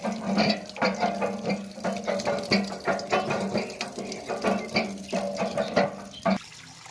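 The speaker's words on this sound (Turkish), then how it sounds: "Bu el pompası." Water gushing from a hand pump in a rhythmic run of splashing pulses as the handle is worked, near and fairly loud, with no talking.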